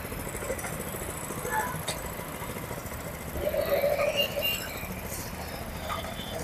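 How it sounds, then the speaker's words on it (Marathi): A 7 hp power weeder rotavator runs after a recoil start, its small engine idling in a steady low putter close by, with a brief rise in revs midway and someone talking over it. "तर हा सात एच पीचा पॉवर विडर आहे रिव्हर्स फॉरवर्ड करून दाखव जरा थोडं सगळं तर या ठिकाणी आता चालू केलं आहे रिकॉईल स्टार्टरनं"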